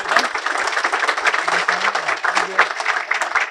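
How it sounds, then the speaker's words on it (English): Audience applause at a tribute event, a moderate round of clapping from a gathered crowd, dense and steady for a few seconds with a voice speaking faintly underneath. "give a big round of applause first to John and J.I. McDowell"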